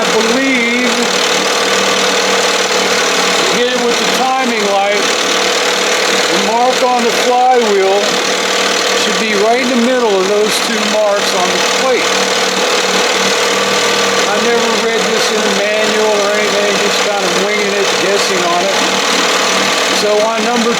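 An Evinrude 6 hp outboard motor runs at a steady, loud drone throughout, with someone talking over it.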